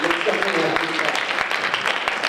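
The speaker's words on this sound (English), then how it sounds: "Let's give a bigger round of applause for that." An audience claps in a continuous, moderately loud round of applause at a women of color entrepreneur conference, with a voice speaking over it.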